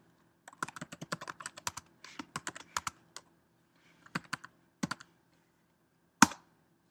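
Computer keyboard typing in quick close bursts of clicks while data is entered into a spreadsheet table on a Mac, with pauses between runs and one louder final keystroke.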